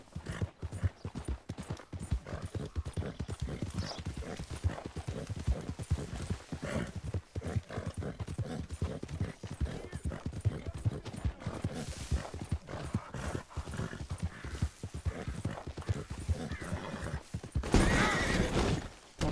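In Red Dead Redemption 2, a horse gallops in a fast, even clip-clop rhythm of hooves that runs throughout, with neighs breaking in and a louder burst near the end.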